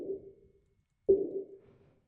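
Two hits of a high-passed tonal snare sample, each a sharp attack followed by a short pitched ring that fades, about a second apart, fairly quiet and dry with no voices.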